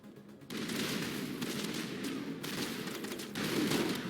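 Weapon fire in the Mass Effect video game comes as a continuous, fairly quiet rattle of rapid shots, almost unbroken, with brief swells in intensity.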